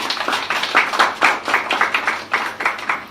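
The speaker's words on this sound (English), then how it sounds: "Let's give them a round of applause for being here." Audience applauding the caterers at the opening ceremony of a caterers showcase, with close, distinct claps in uneven bursts that swell and dip across the few seconds.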